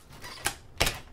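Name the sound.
opening a box by cutting tape with a bottle opener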